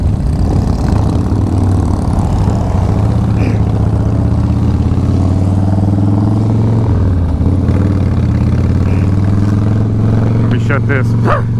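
A group of about fifteen motorcycles on a Tennessee backroads ride, a loud, steady low exhaust drone that carries throughout, with a person talking over the engines.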